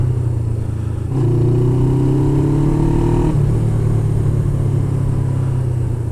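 A motorcycle engine runs steadily nearby as the bike rides over rocks, with a rising tone partway through as it revs and gains speed, loud and continuous without speech.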